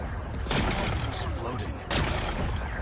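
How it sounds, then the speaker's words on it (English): Two loud blasts of rock being exploded in Horizon Forbidden West, each a sudden burst followed by crumbling debris, over a constant rumbling background. "Gotta blast away some rocks, so I can expose the power cell."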